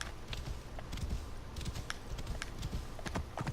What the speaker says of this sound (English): I guess we'll call a horse.